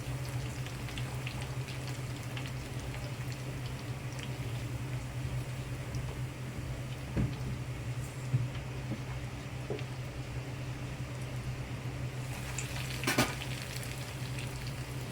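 Bread cheese rolls fry in hot oil until golden brown, giving a steady close sizzle with a few louder pops and crackles near the end and no talking.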